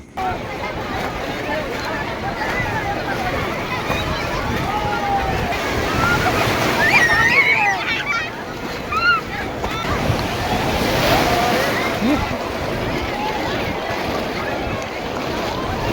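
Sea waves breaking at Digha beach with people wading in, a steady roar of surf and wind noise across the whole stretch, with scattered voices mixed in.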